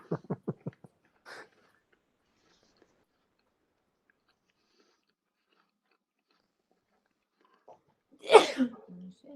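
A single sharp sneeze bursts out in a quiet classroom during a lecture, following a long silence that opens with a few faint taps and a soft breath.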